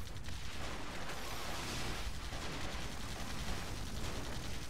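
Gunfire in the video game AirMech, a dense, continuous crackle of rapid shots and distant explosive bursts, steady and fairly quiet throughout.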